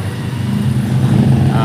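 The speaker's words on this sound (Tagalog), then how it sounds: "Tricycle na lang maingay." A motorized tricycle passes on a road nearby, its steady engine drone holding at a moderate, even loudness throughout the short stretch with no voices.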